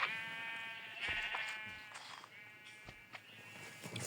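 A sheep or goat bleats, a faint wavering call heard clearly on its own and repeated a few times within a few seconds.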